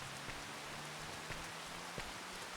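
Heavy rain falls steadily and loudly on an overcast farm field, a dense continuous hiss with occasional sharper drops and no voices.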